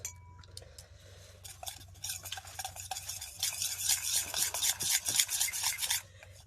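Flour is mixed by hand into a spiced stuffing mixture in a bowl, producing a continuous close rubbing and rasping churn that grows louder midway, then stops abruptly.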